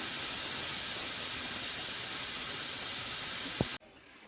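A pressure cooker cooking mutton curry with potatoes vents steam in a loud, steady, close hiss. The hiss cuts off abruptly near the end, leaving quiet room sound.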